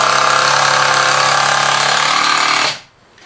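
A power driver whines at full speed, loud and close, as it sets a screw into a workbench, then cuts off abruptly near the end.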